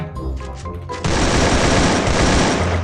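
An AK rifle in the Free Fire video game unleashes loud, rapid automatic gunfire that starts abruptly and continues in a dense, continuous burst.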